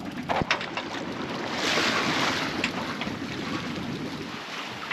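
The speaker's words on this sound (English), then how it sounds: "And the wind's picked up as well." Gusty wind rushes over a sailboat under full main and jib, with water hissing along the hull, a steady broad roar that swells slightly midway, with no talking.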